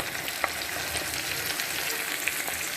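Blended spice paste for a spicy tenggiri fish sambal sizzles in hot oil, a loud, steady frying hiss broken by a couple of sharp pops.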